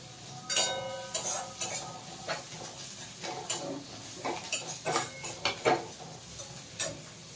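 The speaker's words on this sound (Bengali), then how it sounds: "এবার আমার পেঁয়াজটা ভাজা ভাজা হয়ে এসছে" Onions sizzle faintly in a pan beneath repeated scraping and clinking of a spatula, the stirring strokes coming in an uneven rhythm close by.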